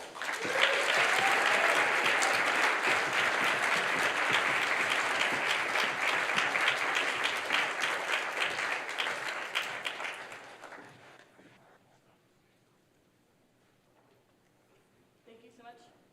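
Sustained audience applause welcoming the three Women PeaceMaker Fellows onstage at the Kroc Institute for Peace and Justice, a dense even clapping that holds steady for about ten seconds, then fades into near silence.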